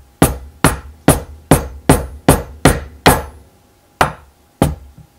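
A hammer strikes a toughened glass Prince Rupert's drop about ten times, sharp loud ringing impacts in a steady rhythm, then two slower final blows.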